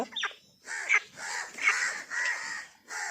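A crow caws four times in a steady, evenly spaced rhythm, each call harsh and fairly close, with brief quiet gaps between.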